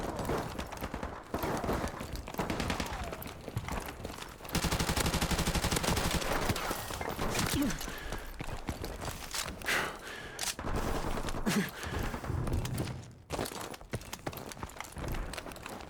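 Rapid gunfire from the player's weapon in Mass Effect 3 on Insanity difficulty, with a Soldier-class character: dense, loud bursts and clattering shots that run almost continuously amid busy in-game combat noise, with no talking.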